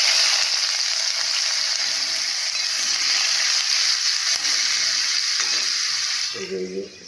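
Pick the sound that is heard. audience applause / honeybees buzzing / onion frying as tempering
onion frying as tempering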